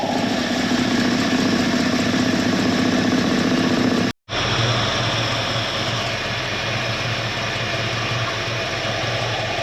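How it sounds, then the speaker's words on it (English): A 1977 Ford Ranchero engine idles on its own fuel tank and pump, a loud, steady close-up rumble that cuts out for a split second midway before resuming unchanged. "Pretty sure we're idling on our own fuel tank and our own fuel pump."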